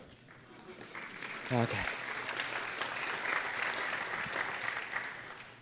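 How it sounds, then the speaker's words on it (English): An audience at a hardware security talk claps in a dense, sustained burst, with a brief spoken word near the start and a voice over the applause. "Thank you for clapping."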